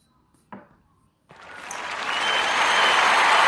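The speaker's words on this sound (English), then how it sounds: "Round of applause." After a single knock, a crowd bursts into applause that swells and stays loud and steady to the end.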